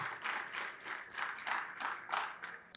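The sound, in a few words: audience applause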